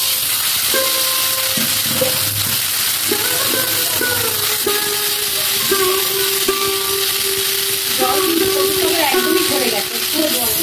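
Taro greens (kochu shak) go into hot oil with turmeric and chili and sizzle steadily, with stirring clinks and someone talking over it.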